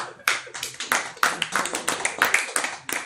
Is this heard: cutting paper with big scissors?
no